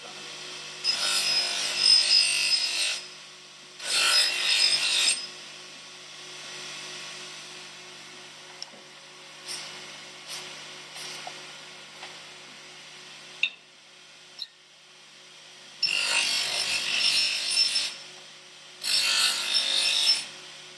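The edge of a WoodTools Woodland Axe is being polished to remove compound, with several bursts of harsh rubbing and buffing separated by quieter gaps and faint clicks.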